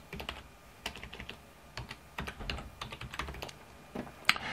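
Rapid, uneven typing on a computer keyboard while logging in to a website, close and clear, with irregular bursts of keystrokes and one sharper key press near the end, no talking.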